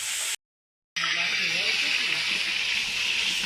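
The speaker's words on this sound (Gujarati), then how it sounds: "આ રસોઈયા ભાઈ સમસમાટી બોલાવવાનું ચાલુ કરી દીધું છે." A cook pours a tempering into hot oil for rajavadi dhokli, and it sets off a loud, continuous hiss and sizzle. The sound cuts out briefly near the start, then runs steadily to the end.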